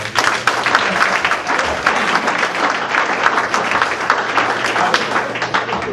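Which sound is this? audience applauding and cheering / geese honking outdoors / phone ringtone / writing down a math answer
audience applauding and cheering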